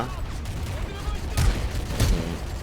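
Rapid gunfire bursts from Call of Duty: Modern Warfare 3 multiplayer, with a continuous rattle of shots and two louder blasts standing out, all beneath an excited voice talking over the action.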